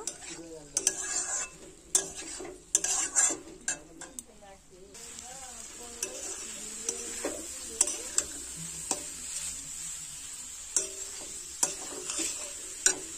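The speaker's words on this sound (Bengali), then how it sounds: "আরও 1 থেকে 2 মিনিট খুব ভালোভাবে নাড়াচাড়া করে নেব" Elephant foot yam being sautéed and stirred in a pan, sharp intermittent spatula clicks and scrapes against the metal over a light sizzle, close, with a few quiet stretches between strokes.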